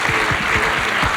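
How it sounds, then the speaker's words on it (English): An audience at an education and training conference gives a burst of applause, with dense, steady clapping filling the short moment without a break. "big clap from all of us."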